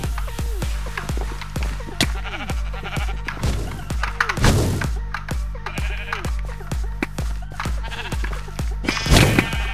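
Sheep bleat again and again in the video game Minecraft during an arcade-mode PvP match. The short, wavering blips repeat quickly and overlap with dense game thumps and hits, and there is no talk.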